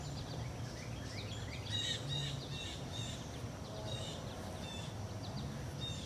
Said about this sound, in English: Look at that golden finch right there.